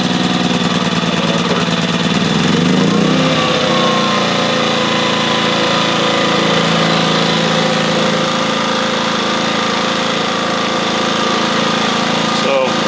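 A Powerhorse 2500i gas generator runs loud and close at its initial startup, with a steady droning engine hum and a brief shift in pitch near the start as it settles.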